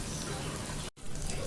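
Mutton spleen (tilli) fries in a pan with a loud, dense, continuous sizzle and crackle, close up, broken by one brief near-silent gap.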